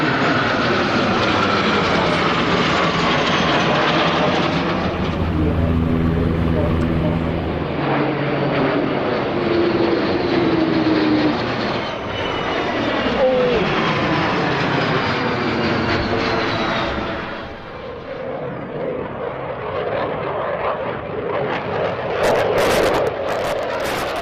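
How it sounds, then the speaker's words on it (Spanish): Airplane engines roaring loudly overhead at an air show, a sustained powerful drone that swells and shifts in pitch as the aircraft passes, with no voices. "El público pudo apreciar las aeronaves más modernas como el Boeing 787-9 Dreamliner o el Airbus A350"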